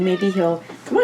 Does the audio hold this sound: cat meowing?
yes